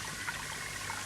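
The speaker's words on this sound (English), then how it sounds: "his other new friend, the river, was lapping the sill of his window" River water lapping against a window sill at night, a soft continuous trickling and gentle sloshing heard close by with no voices.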